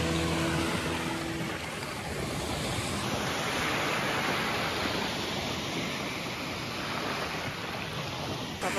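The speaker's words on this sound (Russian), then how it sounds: "Слышите, этот прекрасный звук моря." Continuous roar of Black Sea waves washing ashore at Sanzhiika, loud and close, with wind noise and no pauses.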